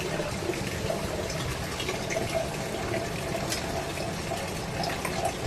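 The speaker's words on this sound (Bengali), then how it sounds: "এবার দিয়ে দেবো হাফ কাপ জল।" Half a cup of water poured into a cooking pan, a steady close-up splashing and trickling that runs evenly throughout.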